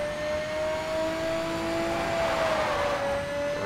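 A car engine in the racing video game Need for Speed Shift holds a high, steady whine while the car drifts through a corner, loud and continuous with a slight pitch dip.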